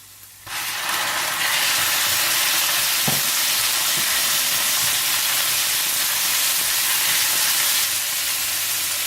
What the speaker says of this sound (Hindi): चिली गार्लिक सॉस और सोया सॉस डालकर अच्छी तरह से फ्राई कर दें